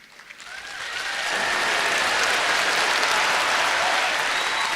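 A theater audience at a comedy stage show breaks into applause that swells quickly from scattered claps to a dense, sustained ovation that stays loud to the end.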